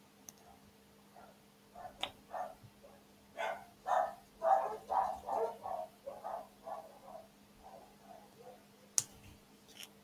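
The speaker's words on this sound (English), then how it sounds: "Or my dogs. Don't listen to them." Several dogs bark in a loose, uneven run of yaps and woofs at moderate distance in a home, with a steady hum underneath and a sharp click near the end.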